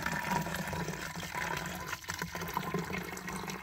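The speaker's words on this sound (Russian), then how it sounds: "Так, я у родника. Набираем водичку." Bottles being filled with water at a natural spring outdoors, a steady close gush and splash of running water lasting throughout with no talk.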